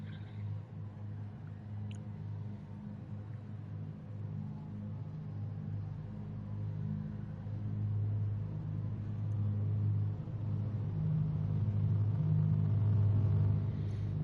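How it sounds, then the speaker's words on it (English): Deep, steady rumble of several Gr. 4 racing car engines idling together on the grid at Red Bull Ring in Gran Turismo 7, a low throbbing drone that slowly builds louder with no talking. "you can just hear the vibrations almost from the cars"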